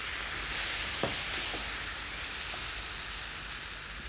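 Chicken cooking in a pan as a steady, dense sizzle, close and even throughout, with one or two faint stirring knocks early on and no talking.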